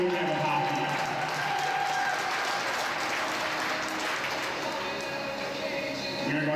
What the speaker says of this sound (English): a round of applause for both teams on a well-played game and a phenomenal weekend of hockey